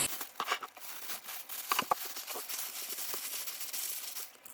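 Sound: crumpling paper to wrap meat for baking

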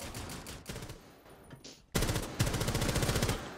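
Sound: pump shotgun gunfire in the video game Rainbow Six Siege

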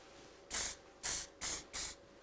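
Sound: Tresemme Salon Finish hairspray being sprayed on hair

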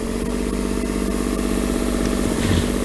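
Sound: diesel motor running on M-B Companies 53H

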